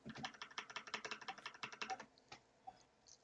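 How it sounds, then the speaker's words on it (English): Rapid, uneven keyboard typing, a burst of clicky keystrokes that thins out into a few scattered taps, fairly quiet and close. "Alright, he's typing."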